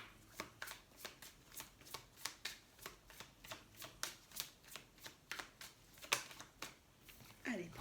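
Oracle cards are shuffled steadily by hand, a soft rhythmic riffling that repeats about twice per second throughout, fairly quiet and close, with no talking.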